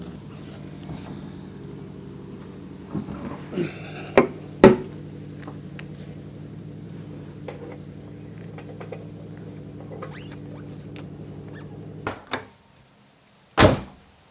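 Door of a junkyard-sourced NB2 Mazda Miata being fitted on its hinges: a low steady hum runs throughout, broken by a few sharp metallic knocks and clunks, then a firm door slam near the end.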